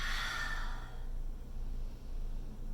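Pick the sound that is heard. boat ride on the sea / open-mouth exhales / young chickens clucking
open-mouth exhales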